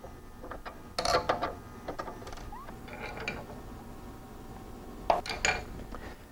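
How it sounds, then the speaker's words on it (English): A Centroid CNC knee mill moves its reference tool back to the tool change position with intermittent metallic clanks, ratcheting clicks and gear-like clatter over a faint low hum. No one speaks. "I'm going to hit Tool Check, bring the reference tool back to the tool change position."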